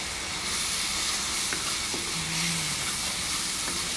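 Sliced jicama fries in a pan while lontong is being cooked, giving a steady, close hiss and sizzle that carries through the whole clip, with no talking.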